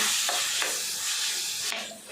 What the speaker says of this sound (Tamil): பீட்ரூட் சேர்த்துட்டு நல்லா கலந்து விட்டு வதக்கலாம்.